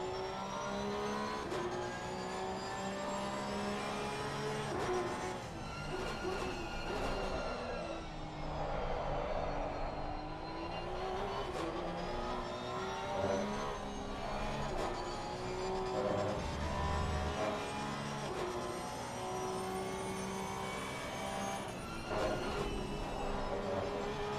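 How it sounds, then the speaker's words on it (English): An onboard Porsche Cup race car engine at the Hungaroring drones loudly and continuously, pitch rising and falling through gear shifts over a long stretch with no talking. "listen to that Porsche engine for a little bit"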